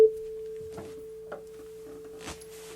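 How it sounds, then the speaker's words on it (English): Steady, pure electronic A 440 tone held throughout, with a tuning fork set ringing in sympathy, accompanied by a few faint knocks and handling sounds. "That's the sine wave from the computer activating the tuning fork's vibration."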